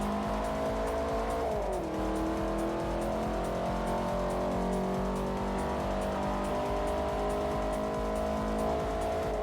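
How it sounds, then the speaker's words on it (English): Porsche and Audi race cars in Forza Motorsport 4 whine along at sustained high revs, with a sharp pitch drop shortly in as they shift or brake, then a steady, loud engine drone with a hint of tire squeal. "Porsche just cleared the Audi now."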